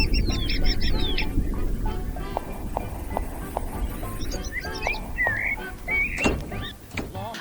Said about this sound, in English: There was bird song